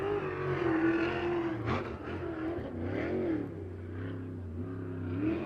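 A USAC race car at Circle City revs and accelerates down the back straightaway, its engine note swelling and falling in waves as it drives into the turns, loud and continuous with other cars droning in the mix.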